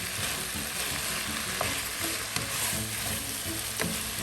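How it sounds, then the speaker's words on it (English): Ginger and onions fry in a pot while being mixed, giving a dense, continuous sizzle with occasional soft clicks of a utensil, close and steady, no voices. "I'm going to add some ginger. We like a lot of ginger as well, so we put a lot of ginger. And then just mix this up"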